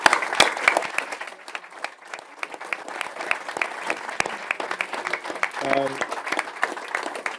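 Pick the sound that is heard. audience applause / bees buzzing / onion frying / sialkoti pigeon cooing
audience applause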